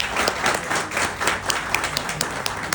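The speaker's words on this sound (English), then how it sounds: "So big round of applause." Audience applause at a gathering fills the clip with a dense, steady patter of many hands clapping, moderately loud, with a few sharper individual claps standing out toward the end.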